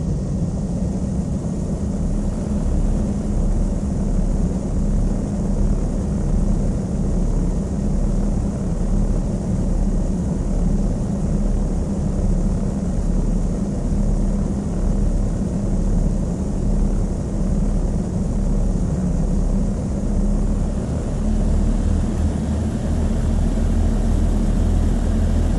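Small propeller aircraft in Flight Sim World taxiing for takeoff, a loud, steady engine drone with a low rumble and broadband whoosh held constant throughout, no voices.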